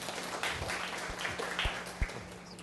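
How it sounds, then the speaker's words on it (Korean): An audience at a design forum in Seongsu applauds, a quiet continuous patter of clapping with a few sharper, closer claps standing out. "박수 부탁드립니다."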